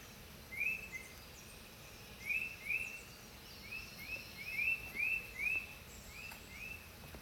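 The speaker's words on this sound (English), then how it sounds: "We were just discussing these birds." Faint, high bird chirps come in short repeated bursts over quiet outdoor background noise.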